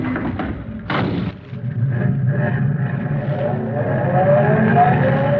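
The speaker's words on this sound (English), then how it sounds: "me and Mrs. North are going for a ride" In an old-time radio drama, a car sound effect plays as characters drive off: a thump like a door shutting, then a continuous engine rumble that builds steadily, heard alone without dialogue.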